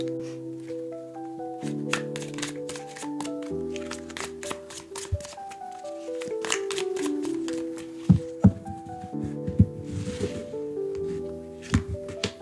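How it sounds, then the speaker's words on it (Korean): Cards from a tarot deck are shuffled over soft background music, with repeated riffling and light taps and a few sharper snaps toward the end. "자, 그러면 카드 셔플 시작할게요."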